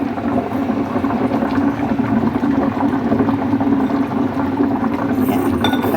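Steady bubbling and rumbling of black chicken soup boiling in a pot, continuous and close, with faint clinks.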